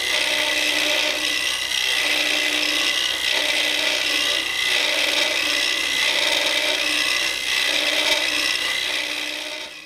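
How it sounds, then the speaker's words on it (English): A lathe tool hollows out a spinning wooden turning, a steady, close rasping and scraping that swells and eases as the cut works back, with no voices. "just keep working this back until you have it hollowed out"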